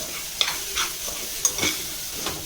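A spoon stirring jowar upma with salt in a hot pan, with a few distinct scraping strokes over a soft sizzle, close up.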